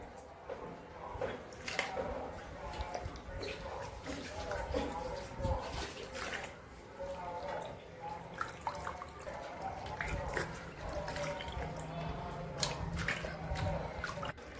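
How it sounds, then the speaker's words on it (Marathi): Water splashes and trickles as sliced potato chips are rinsed twice in clean water, with scattered drips and sloshing, and a voice talking intermittently over it. "केलेले चिप्स आहेत ते आपल्याला स्वच्छ 2 पाण्याने धुवून घ्यायचे।"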